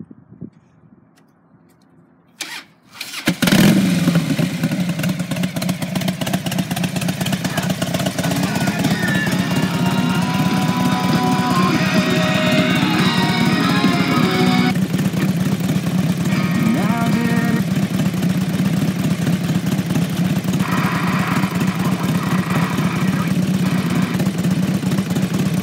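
A 2005 Harley-Davidson Electra Glide Ultra Classic is started after a brief crank, then idles with a steady, loud, close low rumble that runs on unbroken for over twenty seconds.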